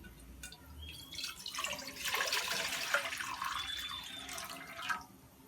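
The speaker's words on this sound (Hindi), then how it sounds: "तो कढ़ाई में डाल देंगे पानी।" Four cups of water poured into a kadhai for boiling macaroni: a steady splashing pour lasting several seconds, close and moderately quiet.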